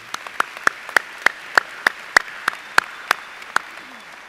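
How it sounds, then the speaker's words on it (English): At a College of Central Florida fall graduation ceremony, a single pair of hands claps in a slow, even rhythm, about a dozen sharp claps, fairly close over a quiet room. "Let's give him one more round of applause."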